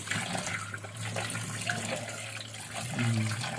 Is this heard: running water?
yes